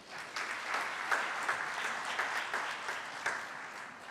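A seated audience at a banking summit applauds the chairman after his welcome speech, steady moderate clapping throughout with individual claps standing out, no voices over it.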